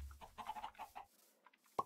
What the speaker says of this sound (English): Really weird looking chickens.